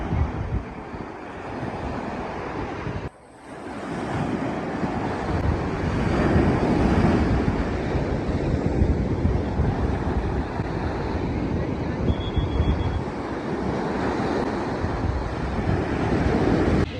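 Sea waves wash onto a summer resort beach under strong wind that buffets the microphone, making a steady, loud roar with a brief dip near the start.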